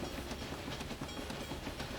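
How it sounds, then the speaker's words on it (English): Trains rolling along the lines in the Railway Empire video game, including a cattle train, give a steady rumbling run with rhythmic clickety-clack wheel beats throughout, fairly quiet and with no talk over it. "The cattle train's running."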